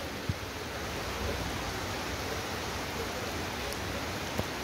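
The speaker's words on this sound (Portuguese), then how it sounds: "Seja bem-vinda, chuvinha, primeira chuva de 2024" Light rain falls on New Year's Day, an even, soft hiss of drops with a couple of faint taps, steady and moderately quiet throughout without any voices.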